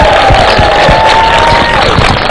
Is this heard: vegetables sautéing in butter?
no